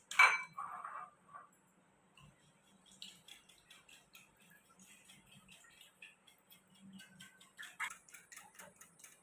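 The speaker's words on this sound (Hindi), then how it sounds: "चीनी, अंडे और दूध मैंने अच्छी तरह इसको फेंट दिया।" Sugar, eggs and milk are whisked in a bowl for besan halwa, producing faint, rhythmic ticking clinks of the whisk against the bowl, close and quiet, with a few louder knocks near the start and end.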